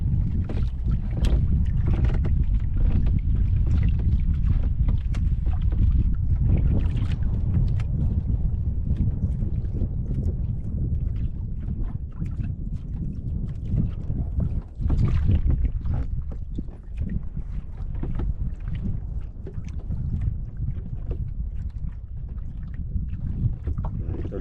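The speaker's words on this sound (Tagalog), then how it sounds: "Nah, ang hangin niya." Strong wind buffets a small fishing boat out on the water, a loud, constant roar with rumbling gusts and occasional knocks against the hull throughout.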